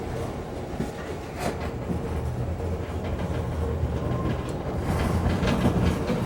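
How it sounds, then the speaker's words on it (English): A train rumbles past near a swift river with a dense, continuous roar and faint rhythmic clatter, growing slightly louder toward the end. "Good shot of train behind him."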